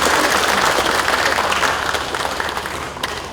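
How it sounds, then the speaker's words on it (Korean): Audience at the opening of a symposium of a Yeosu civic committee breaks into loud, continuous applause that gradually thins toward the end. "큰 박수 부탁드립니다."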